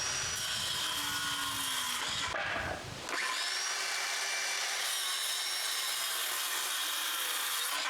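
A hand saw cutting wooden foundation form boards to size for a cottage shelter wall, close and loud with continuous rasping strokes, a brief pause, then sawing resumes.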